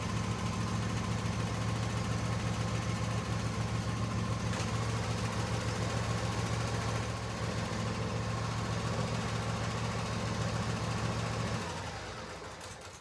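A John Deere S140 lawn tractor idles after sitting all winter, a steady, even low engine hum that holds close and constant before tapering off at the end.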